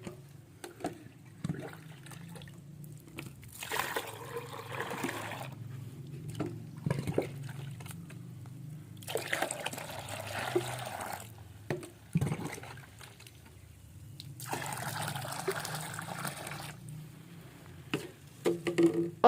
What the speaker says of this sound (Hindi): बाकी मैं सारे का सारा पानी डालूँगा।